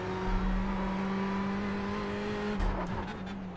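A GTE race car in iRacing, either the Ford GT or the Ferrari 488, holds a steady engine drone, then gives a quick blip and rev change as it drops into third gear, heard close from the cockpit.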